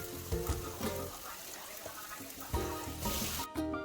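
Potatoes frying with spices in a pan for an aloo palak dish, a continuous crackling sizzle with occasional stirring scrapes and bumps, with someone speaking over it.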